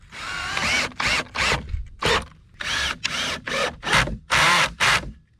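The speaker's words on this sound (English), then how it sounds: "I'll screw them in each to the pallet. And I'm going to use some 1 5/8 inch drywall screws here" A power drill drives 1 5/8 inch drywall screws into pallet wood for a patio bench, a string of short whirring bursts separated by brief pauses, close and fairly loud.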